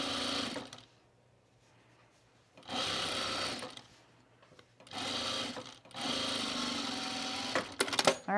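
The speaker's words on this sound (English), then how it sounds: "Let's make sure we don't sew parts of the shirt under there" A sewing machine stitches the seam of a Carolyn pajama top, running in three or four steady bursts of a few seconds each with quiet pauses between, near and clear.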